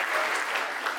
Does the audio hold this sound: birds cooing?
no